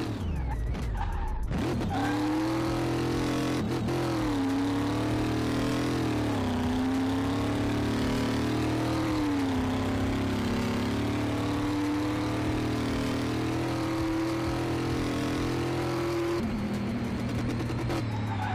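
A supercharged 800hp drag car engine in a car mechanic video game revs hard toward redline, a loud sustained drone whose pitch wavers up and down before dropping off near the end.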